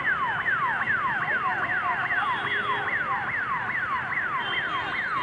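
An ambulance siren wails through traffic as vehicles move aside, its rapid rising and falling sweeps repeating loudly and steadily with no voices.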